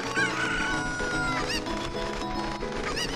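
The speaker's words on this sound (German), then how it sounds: "So, Hühner einsammeln." Chickens cluck and crow in the Zelda game Ocarina of Time, their bird calls blended into steady, loud background music with no talking.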